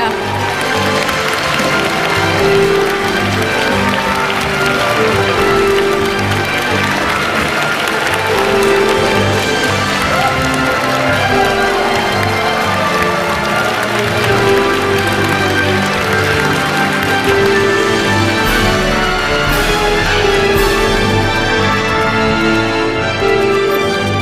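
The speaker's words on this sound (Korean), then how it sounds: "더욱 뜨거운 박수로 환영해 주시기 바랍니다." Loud, prolonged clapping and cheering from a large crowd welcoming President Moon Jae-in at an outdoor public report event in Gwanghwamun, continuous and dense with music playing throughout.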